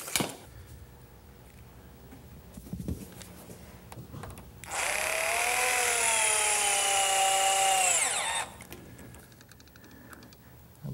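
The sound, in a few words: power tool fastening pressure-treated lumber frame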